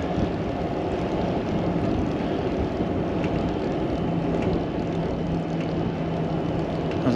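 A steady, droning rotor rumble passes overhead and continues without a break. It is fairly loud, and no one speaks.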